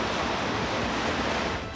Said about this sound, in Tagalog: Sa Maynila, biglang buhos din ang ulan.